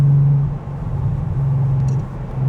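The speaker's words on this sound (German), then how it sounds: "das Auto, das brummert ganz tief und man fühlt sich wohl" A 2012 Bentley Continental Supersports ISR rumbles deeply and steadily while driving, its low engine drone loud and close, with slight swells in level and no talking.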